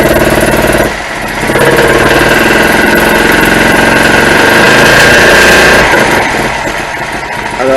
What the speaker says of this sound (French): je mets le contact, j'appuie sur le démarreur, voilà, et le moteur tourne